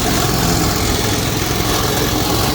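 A walk-behind brush cutter engine runs steadily at 80% throttle, cutting rice stubble, a high, even drone, loud and close, with no breaks or changes in pitch throughout.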